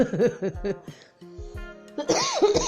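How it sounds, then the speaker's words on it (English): Several rough coughs come in quick bursts, mixed with laughing and chuckling voices, then a short pause before more laughter and coughing. "here we go with the coughing again"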